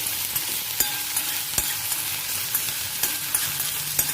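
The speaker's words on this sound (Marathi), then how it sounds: "कांदा मस्तपैकी फ्राय झाला" Chopped onion frying in a pan, a steady close sizzle broken by sharp spatula clicks and taps against the pan at irregular intervals.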